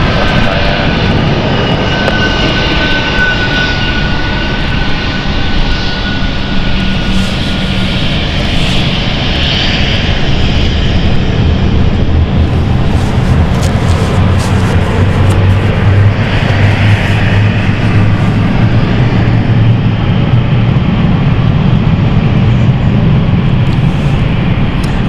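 A passenger plane arriving on the Edinburgh flight at London City Airport gives a loud, continuous engine roar that holds steady for the whole stretch, with no voices.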